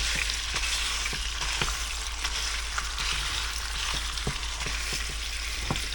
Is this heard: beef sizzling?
yes